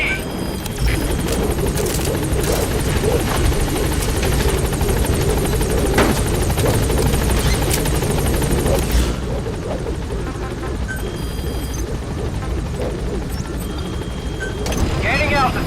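The B-Quad helicopter from Metal Gear Solid V closes in on a landing zone, a loud close rotor drone that holds for several seconds, then drops to a quieter hum, with radio voices speaking over it.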